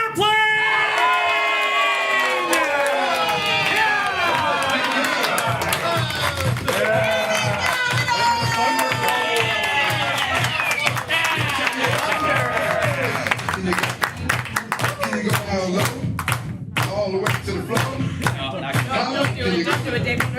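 Loud, sustained cheering and applause from a large live audience at a comedy show, thick with whoops and dense clapping for about twenty seconds, with excited shouts mixed through it.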